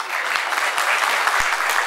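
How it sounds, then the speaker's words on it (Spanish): Sustained applause fills the room at a cooperative education event in Encarnación, a steady, dense wash of hand claps from an audience welcoming a senator speaker, holding evenly throughout without any voices rising above it. "Fuertes los aplausos entonces para nuestra primera expositora"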